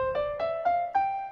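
Piano voice on an Estey digital keyboard playing four evenly spaced notes at a moderate pace, close and clear, the last note ringing on.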